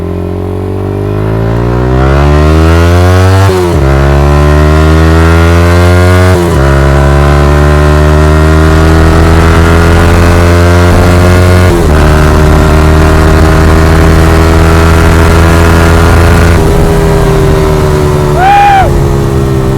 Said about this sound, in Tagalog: magsa check tayo ng XSR155 na naka Yoshimura pipe